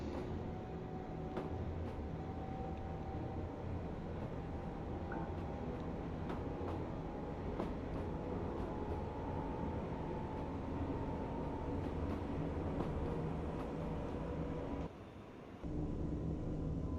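Electric passenger train running in the Train Life railway simulator game, a steady continuous rumble and rolling hum throughout, loud and unbroken apart from a brief dip near the end.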